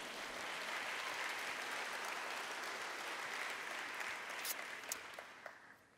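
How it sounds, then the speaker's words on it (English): Applause at a governor's service awards ceremony, honoring a poet: a steady, full wash of clapping from a sizable audience that holds for several seconds, then thins with a few last scattered claps. "You can clap it up for Miss Maggett."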